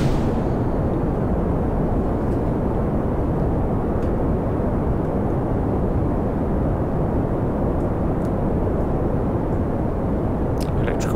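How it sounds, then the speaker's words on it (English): A rocket launching in a space flight game, a steady loud engine roar holding at full throttle from start to finish with no pauses. "SAS on, throttle up, ready for launch"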